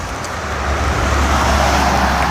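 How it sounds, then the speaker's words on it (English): A car driving by on a small-town street at night, a steady broadband roar that swells slightly as it passes close, with no voices. "Like right now, there's a car going by."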